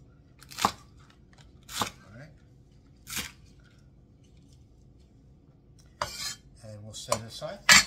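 A kitchen knife cuts the ends off vegetables on a cutting board while preparing Cantonese beef chow fun: three separate crisp, close chops, then a quicker cluster of cuts and board knocks near the end.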